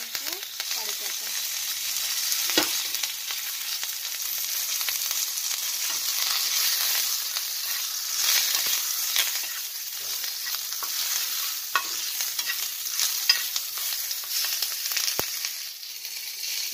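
Mustard seeds, green chilies and curry leaves sizzle in hot oil, a loud, unbroken hiss close up, broken by occasional sharp pops and the scrape of stirring throughout.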